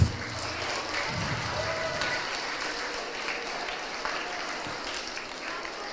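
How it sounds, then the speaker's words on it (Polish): An audience applauds the actors after a performance of a piece about the Greek gods, a dense, steady wash of clapping that holds at an even level from start to finish with no voices. "wielkie brawa dla aktorów"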